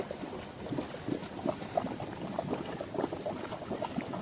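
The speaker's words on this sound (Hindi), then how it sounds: "पानी उबल क्यों रहा है?" Hot sulfur spring water bubbles steadily at a mountain pilgrimage site, a continuous close, soft gurgling and popping with fine fizzing throughout, no voices.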